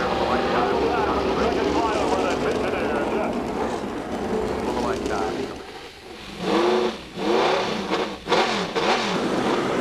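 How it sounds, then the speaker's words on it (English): IndyCar race car engines fire up and rev together on the grid at the 1997 VisionAire 500. A loud, dense roar swells and dips with throttle blips, and a voice talks over part of it. "Gentlemen, start your engines."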